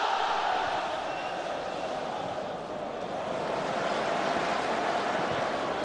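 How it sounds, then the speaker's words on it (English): Large football crowd at Ibrox Stadium during a Rangers UEFA Champions League qualifier, a steady dense roar of thousands of fans filling the stadium, continuous and broad with no distinct chants standing out. "Big crowd here at Ibrox Stadium."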